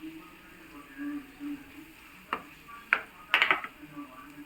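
Curry leaf sprigs dropped into hot oil for tempering a bitter gourd chutney crackle in a few brief, sharp bursts against a low kitchen hum.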